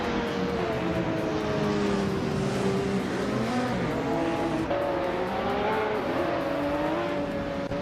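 Engines of 1995 McLaren F1 GTR race cars in a racing video game roar off the start line, a dense, steady blend of rising and falling engine tones from several cars continuing loudly throughout.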